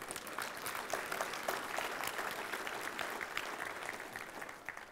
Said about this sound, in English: Everybody just say, give her a round of applause